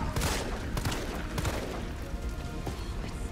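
Gunfire in the video game Resident Evil 3 Remake, several sharp shots in an irregular rhythm, loud and close, with a muffled background rumble between them.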